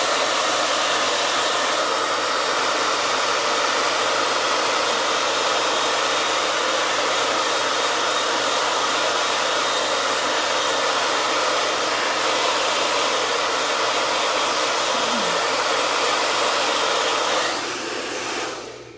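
A hair blow dryer runs loud and close for about nineteen seconds, a steady broadband whooshing roar that cuts off at the end, with no voices.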